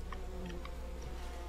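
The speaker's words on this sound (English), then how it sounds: "I did not realize there was bees there." Bees in the video game We Happy Few: a steady insect-like buzz drones continuously, with a few faint higher clicks scattered over it; no voices.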